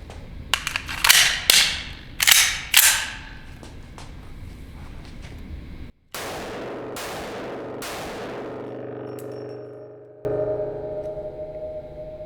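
A stainless Desert Eagle .50 AE pistol with integral brake fires Magnum Research 350-grain rounds: a quick series of loud, sharp shots with ringing decay, then more heavy booms spaced a second or so apart outdoors.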